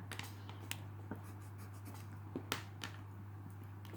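A pencil sketches a tilted face on paper for a watercolor study, making soft scratchy strokes and light taps close to the microphone over a steady low hum.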